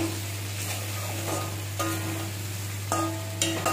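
A spice paste for cauliflower malai curry, made from ground spice powders mixed in hot water, cooks in a pan. Soft sizzling and a few short stirring scrapes sit over a steady low electrical hum.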